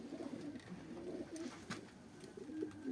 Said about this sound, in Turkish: Hepsi Mardin oyun kuşu